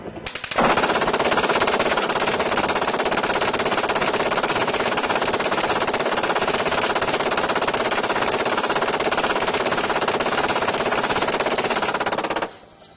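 M240 machine gun firing a long continuous burst of about 130 rounds at a target, a loud dense rapid stream of shots lasting around twelve seconds before cutting off.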